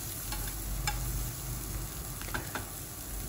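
Chopped onions and green chillies fry gently in a pan over low heat, a steady soft sizzle with a few sharp scraping clicks from a stirring spoon; no one speaks.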